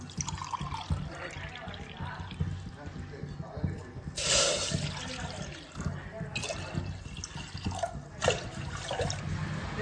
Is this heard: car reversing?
no